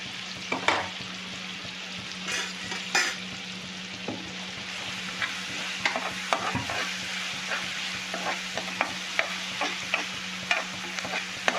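Onions sautéed and stirred in a pan for a prawn gravy, a steady sizzle with frequent spoon scrapes and clicks, close and continuous with no talk.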